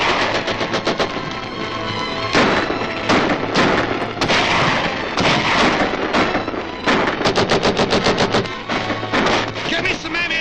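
Rapid bursts of gunfire crackle in long rattling volleys, with heavier booming cannon shots mixed in, loud and nearly continuous, and shouting voices scattered among them.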